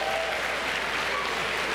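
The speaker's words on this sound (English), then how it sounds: "Give yourselves a round of applause for being awesome" Audience members at a talk on healthy relationships break into a brief, even roar of applause, a dense continuous wash of many hands clapping with no voices on top.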